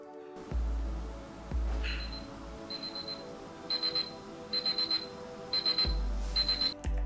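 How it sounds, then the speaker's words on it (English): An electronic alarm from a Divoom Ditoo pixel art display speaker beeps in short repeated bursts, grouped in quick clusters over a low hum, close and moderately loud. "the alarm sound isn't the most pleasant I've heard."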